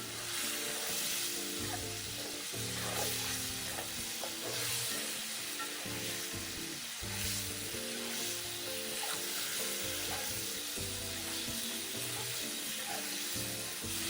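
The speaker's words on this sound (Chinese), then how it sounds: "快速拌炒，将锅底水分收干。" Ingredients stir-fried over high heat in a wok sizzle steadily and loudly, with the spatula scraping and stirring in an uneven rhythm, as the last moisture is cooked off the bottom of the pan.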